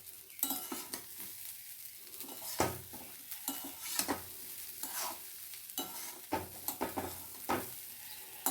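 Dalia being stirred in a pan, a vegetarian dish: repeated scraping strokes of a spoon against the pan over a soft sizzle, close and steady with irregular louder scrapes and no talking.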